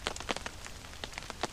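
Scattered raindrops tap on a camping tent during a thunderstorm, a handful of distinct light pats over a soft background hiss, close by and fairly quiet, with no talking.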